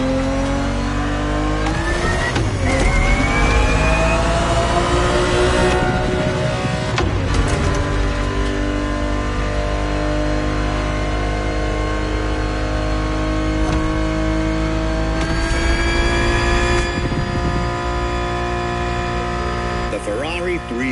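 A Ferrari 365 GTB4 in The Crew Motorfest revs its engine loudly. The sustained, rising and falling note holds for about twenty seconds while a voice talks over it.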